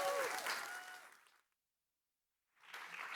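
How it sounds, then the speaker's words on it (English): Audience applause at a startup summit fades out over the first second and a half, then silence, then clapping swells back in near the end. "I need like a very, very loud, applause for our first startup"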